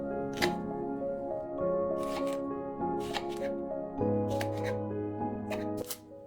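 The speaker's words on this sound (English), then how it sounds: "Discard half an inch from both the ends of okra and cut the okra into 1-inch round pieces." Okra being sliced into one-inch rounds with a knife on a cutting board, a series of crisp, irregular chops spread across several seconds with quiet pauses between them.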